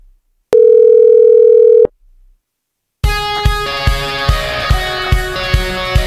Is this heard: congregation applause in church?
no